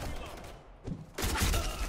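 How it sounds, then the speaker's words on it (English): Bursts of automatic gunfire from the online shooter Black Squad, loud and dense, with a brief lull before a heavier, sustained volley. "Bailey, who are you shooting over there?"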